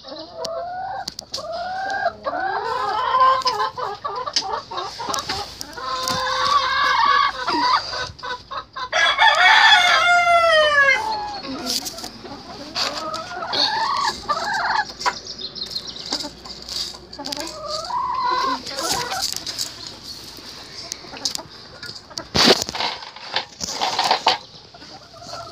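Chickens cluck and squawk close by during feeding time, a busy, irregular chorus of hens with bursts of louder excited calls and a rooster-like crowing stretch, the loudness rising and falling over about twenty-five seconds.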